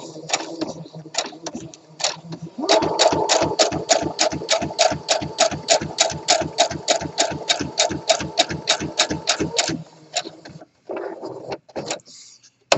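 A sewing machine edge stitches a flat felled seam, starting with a few separate thumps, then running a rapid, even burst of needle strokes for about seven seconds before slowing and stopping, close and clear.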